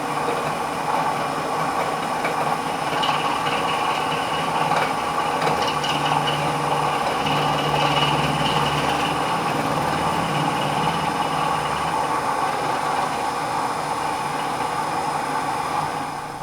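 A high-speed steel end mill cuts into a steel vise at low RPM on a milling machine, a steady droning machine hum with a rough, grinding chatter and tonal whine that persists throughout, alone without talk.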